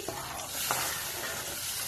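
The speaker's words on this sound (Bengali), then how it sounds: "তো এখন আমি এর ভিতর ব্লেন্ডারের থেকে সেই ধোয়া জলটা দিচ্ছি।" Water poured into frying masala sets off a steady, loud sizzle with hissing and faint stirring scrapes, close and continuous with no talk.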